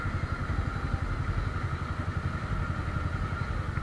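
An Italika 170Z motorcycle engine runs steadily at idle with a rapid, even rhythmic putter and some mechanical clatter, close up and alone.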